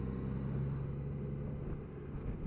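A Honda Gold Wing motorcycle engine cruises in fourth gear at about 1500 rpm, a low, smooth, steady hum heard faintly and evenly with no voices over it.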